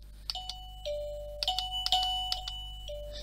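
Default chime of an Aukey dual unit wireless doorbell with flashing LED, a clear electronic ding-dong melody of bright tones with overtones, played twice in close succession over faint hum, loud and close with no talking.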